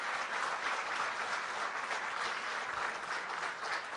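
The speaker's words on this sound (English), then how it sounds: "Let's give Shane a big round of applause once again." An audience at a business event applauds former cricketer Shane Watson in a steady, dense round of clapping. It sounds somewhat distant and soft and continues evenly throughout.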